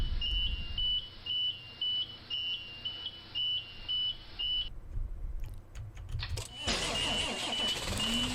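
Inside Rigs of Rods, a 1993 Carpenter Ford B700 bus gives a repeating electronic warning beep, then goes quiet with a few clicks, and its engine cranks and fires into a loud, steady rumbling idle.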